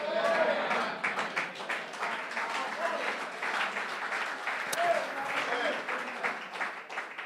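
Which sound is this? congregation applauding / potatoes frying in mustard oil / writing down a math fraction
congregation applauding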